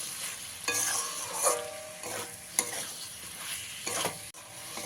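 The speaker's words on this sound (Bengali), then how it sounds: "সবজিগুলো দেওয়ার পরে টমেটোর সাথে খুব ভালো করে মিশিয়ে নিতে হবে" Fried mixed vegetables being stirred into tomato in a pot for a vegetarian dal dish, with a soft sizzle and several distinct scraping strokes of the spoon at irregular intervals, no talking.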